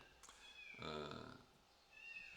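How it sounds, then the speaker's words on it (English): A kitten gives one faint, brief meow over quiet background hiss, with a thin high whine coming and going. "the kitten is, you know, been locked away for a little while there."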